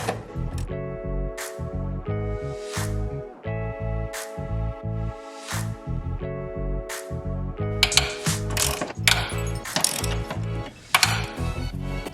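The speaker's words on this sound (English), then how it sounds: "a 14mm bolt will get the upper control arm bolt out" Ratchet wrench backing out the 14mm upper control arm bolt on an R35 Nissan GT-R suspension, steady rapid clicking in repeated bursts with short pauses, close and clear, ending in busier, harsher clattering.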